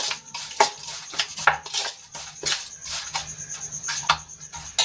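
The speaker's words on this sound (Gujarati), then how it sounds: "હવે મસાલો સરસ રીતે મિક્સ કરી લઈશું" Spice masala being stirred with oil for a carrot pickle, a scattered series of light metallic scrapes and clinks of a spoon against a pan, close and quiet with small pauses between strokes.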